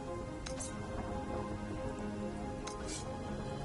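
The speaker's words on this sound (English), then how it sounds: "in the game it's raining" Steady rain falls throughout in the video game Stories: The Path of Destinies, a dense, constant patter on surfaces with a couple of brief brighter splashes, no talk over it.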